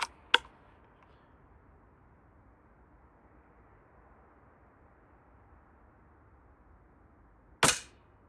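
Two rifle shots fired while zeroing a scope, a sharp crack at the start and another near the end, separated by a long stretch of quiet outdoor ambience.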